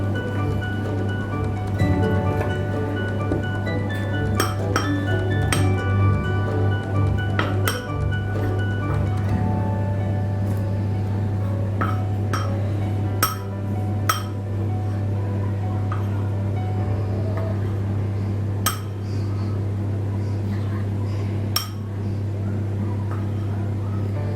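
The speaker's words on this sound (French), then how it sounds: "je vais les mélanger avec une cuillère" A spoon stirring cookie ingredients, flour and baking powder, in a bowl, giving repeated bright clinks against the bowl at irregular intervals over a steady low hum, with occasional soft voice in the background.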